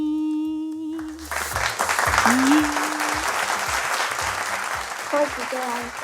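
A studio crowd breaks into loud, sustained clapping right after a short sung or tonal note, and a voice chimes in briefly near the end.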